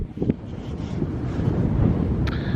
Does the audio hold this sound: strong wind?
yes